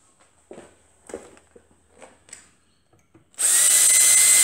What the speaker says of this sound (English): just drilling your lubrication holes in your little end bush before I actually ream it out